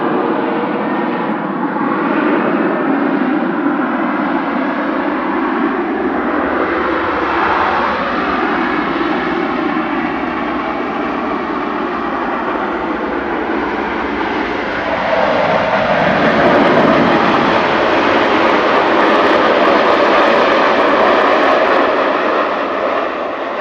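A fixed-wing airliner passes overhead near Manchester Airport, its engine roar loud and sustained for over twenty seconds and swelling slightly as it comes nearest, with no voices.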